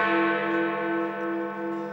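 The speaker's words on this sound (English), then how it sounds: "8 o'clock and Big Ben's final chimes." Big Ben, the clock tower bell in London, rings out a sustained, resonant chime whose rich tone holds and slowly fades, heard alone without talk.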